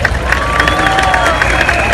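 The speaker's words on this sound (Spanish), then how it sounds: "le pido un aplauso para todos" A big crowd at a Venezuelan opposition political rally cheers and applauds loudly, a continuous roar of clapping and shouting voices filling the whole moment without a break.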